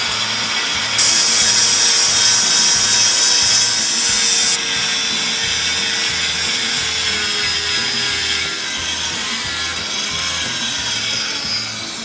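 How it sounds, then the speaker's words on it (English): Angle grinder working welds flat on metal, a continuous loud abrasive whine with a brief harsher stretch early on, steady throughout with no talk. "I'm grinding from the flat side out to the weld, and it'll be perfectly flat when I'm done."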